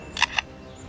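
Two quick mechanical clicks like a camera shutter firing, crisp and close, imitated by a lyrebird, then quiet background.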